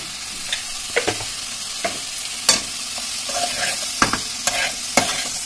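Spice paste with chopped tomato and salt fries in a pan while being stirred, a steady sizzle broken by repeated scraping strokes of the spoon at irregular intervals, close up.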